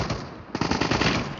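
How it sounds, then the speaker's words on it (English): Rapid automatic gunfire in Call of Duty multiplayer, a short quiet moment then a dense, loud burst of close shots. "I'm getting shot."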